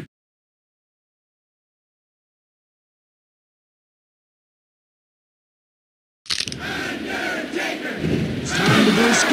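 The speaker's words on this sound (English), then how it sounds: "The crowd is going nuts." Arena crowd in the WWF Warzone wrestling video game at an Undertaker versus Shawn Michaels match, bursting in loud and sustained after a long silence and swelling toward the end.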